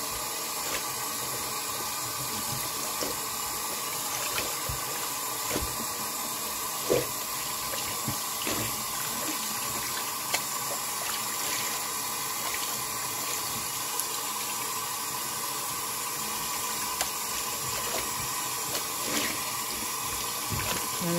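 Steady, continuous water runs from a household tap, a constant hiss with small splashes and no talk.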